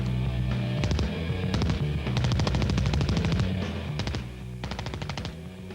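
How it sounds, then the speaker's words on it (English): A Thompson 1928 submachine gun with a 50-round drum fires .45 caliber rounds on full automatic, loud close rattling bursts of rapid shots with short pauses between strings. "I'm shooting the Thompson submachine gun, or Tommy gun"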